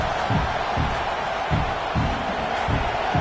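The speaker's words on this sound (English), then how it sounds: "this crowd is fired up. Listen to this noise here." Stadium crowd in a college football video game, Oregon Ducks at Iowa State, roaring steadily with rhythmic low pulses of chanting or stomping throughout, loud and continuous with no talk over it.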